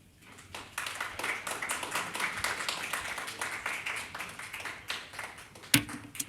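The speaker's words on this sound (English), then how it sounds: "thank you for the smattering of applause" Light smattering of applause from the audience at an open commission meeting, scattered claps starting after a moment and continuing softly for several seconds before tapering.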